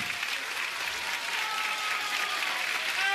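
Dense, continuous clapping from a restaurant crowd at a tribute performance in Restaurant San Remo, even and loud across the whole stretch.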